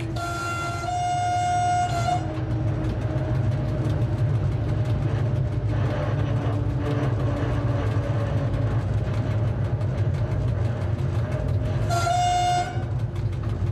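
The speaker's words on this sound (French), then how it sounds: "le rapide Casa-Tanger aborde le pont mixte rail-route de Mechra Belksiri" Casa-Tanger express train on the ONCF line in Morocco, hauled by a CC 72000 (DF 100) diesel locomotive at about 40 km/h on the Mechra Belksiri road-rail bridge, a steady loud rumble with two long horn blasts at the start and near the end.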